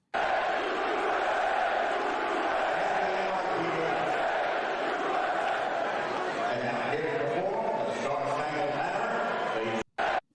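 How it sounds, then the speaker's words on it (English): A large arena crowd at a Knicks game in Madison Square Garden gives a mixed reaction to Trump's appearance, a sustained dense roar of boos and cheers that swells and blurs together before cutting off abruptly near the end. "there's a mix of boos and roars"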